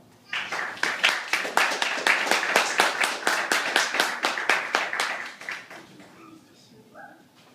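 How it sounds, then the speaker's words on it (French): Church congregation clapping together in a fast, steady rhythm, the claps crisp and dense for about five seconds before fading out, with a few faint voices near the end. "je vous demande, avec une main d'applaudissement, de recevoir la famille Gaspard"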